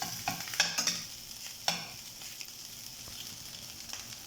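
Rice stir-fried in a pan for egg fried rice, with a few sharp spatula scrapes and taps over a soft, quiet sizzle that fades toward the end.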